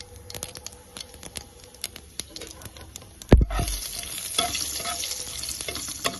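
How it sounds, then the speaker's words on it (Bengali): Quiet clicks and scraping, then at about three seconds a sharp hit gives way to a loud, steady sizzle of dried chillies and cumin frying in hot oil. "লঙ্কা আর জিরেটা সুন্দর ভাজা হয়ে গেছে।"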